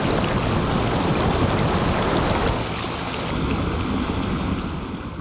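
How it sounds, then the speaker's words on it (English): A truck wades slowly through deep water in the video game SnowRunner: a loud, steady rushing wash of water and engine noise that fills the whole stretch and eases slightly halfway through. "Deeper water here. Don't really know how strong the current is until I'm in it."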